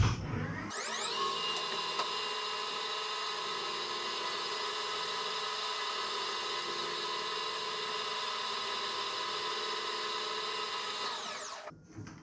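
A machine tool runs at 1200 RPM while machining a steel reamer bushing for a 7/64-inch reamer, a steady, close whine with strong tonal harmonics that starts abruptly, holds constant for about eleven seconds and then stops.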